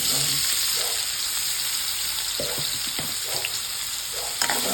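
Marinated paneer fries in about four spoons of oil, a loud, continuous sizzle with occasional scraping stirs running throughout.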